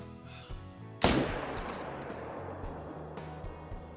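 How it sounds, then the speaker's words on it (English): A single 300 Magnum rifle shot in the hunting game Call of the Wild cracks sharply after a quiet lead-in, then rolls away in a long, fading echo across open terrain. "We're going to take him with a 300 Magnum."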